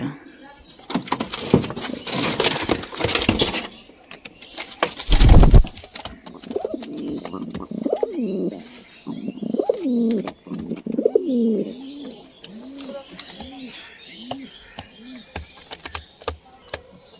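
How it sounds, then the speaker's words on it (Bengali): A pair of pet satin pigeons, male and female, give several rounded throaty coos in a rhythmic series, close by, after loud rustling and a thump, with a person talking over parts. "এটা পায়রি, এটা পায়রা।"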